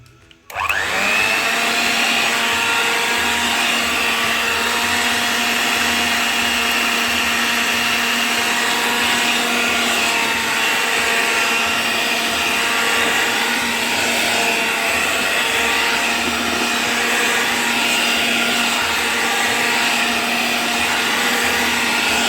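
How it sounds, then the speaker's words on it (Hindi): A hand blender runs continuously through kheer, starting abruptly and then holding a loud, steady motor whine with a strong tonal hum that lasts the whole stretch, with no talking. "तो चले मैं इसमें अब ब्लेंडर चलाती हूँ।"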